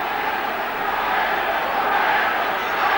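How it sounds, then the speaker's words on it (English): A large stadium crowd at a 1994 Kangaroo Tour rugby league match between Wigan and Australia roars with a dense, continuous cheer that fills the whole space, loud and sustained throughout. "This crowd lending an amazing background to the game"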